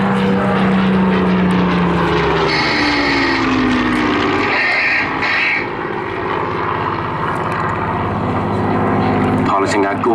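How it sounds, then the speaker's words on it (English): A Hawker Hurricane propeller fighter flies at a seaside airshow, its steady engine drone loud and continuous, shifting in pitch as it passes, with a commentator talking throughout. "Piloting our gorgeous Hurricane today is Squadron Leader Mark Sugden."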